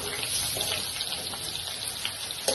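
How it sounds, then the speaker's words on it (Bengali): Water poured into a pan of chilli paneer in a home kitchen, a steady close splashing wash that runs unbroken for a couple of seconds. "আমি এটাকে একটু জল দিয়ে নিই।"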